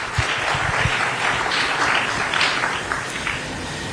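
An audience at a political conference bursts into loud, sustained applause to welcome a deputy chief minister, a thick mass of overlapping claps holding for about four seconds.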